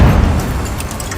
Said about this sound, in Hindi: उसने जैसे ही रॉकेट दागा, जबरदस्त धमाका हुआ